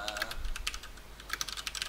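Rapid, uneven clicking of keys on a computer keyboard with blank keycaps during an online card game match, close and crisp, with no talk over it.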